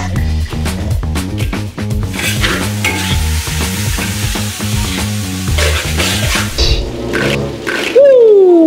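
Super spicy chili salt seasoning being stirred in a pan, with steady repeated scraping and stirring strokes over a constant sizzle, fairly loud and close, with brief voice sounds near the end.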